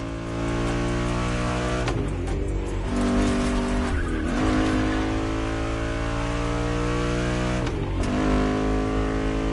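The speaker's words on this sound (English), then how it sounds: "Drifting is the best way to take sharp turns without losing speed." A car drifts through sharp turns in The Crew Motorfest, its engine droning loudly at high revs while tires squeal in long sustained bursts, with the pitch dipping and recovering at each gear change.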